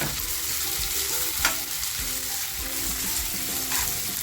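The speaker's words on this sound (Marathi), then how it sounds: "तेल आपल्याला असं छान तापून घ्यायचंय कांदा जो कापलाय मी तो टाकते" Chopped onion hitting hot oil and frying in a steady, loud sizzle that fills the whole stretch, with a brief spatter burst partway, close up and without any voices.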